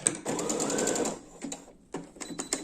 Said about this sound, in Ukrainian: Перемикаюсь на звичайний зигзаг і продовжую шов.